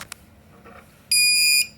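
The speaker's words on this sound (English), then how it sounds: "you can hear it beeping out the battery voltage" A rocket altimeter in a Level 3 avionics bay beeps out its battery voltage: after a couple of faint clicks, one loud, steady high-pitched electronic tone holds for about half a second, close and alone.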